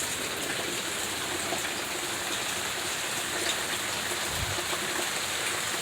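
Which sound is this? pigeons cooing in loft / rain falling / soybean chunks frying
rain falling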